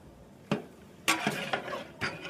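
A lid clinks onto a metal cooking pot of mixed chicken curry, four or five sharp, close metallic knocks and rattles spread over two seconds in a quiet kitchen.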